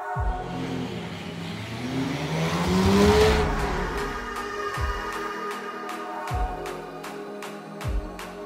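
Classic race cars roar past at the Nürburgring during the Oldtimer Grand Prix: one engine swells and fades as it passes, then several more cars zip by in quick succession with sharp revving bursts.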